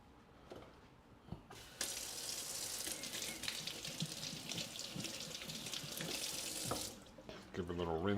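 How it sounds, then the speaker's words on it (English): Running tap water pours into a kitchen sink while something is rinsed during meal prep, a steady rushing stream that starts abruptly, carries on for several seconds with splashing variations, then cuts off. "Give it a little rinse."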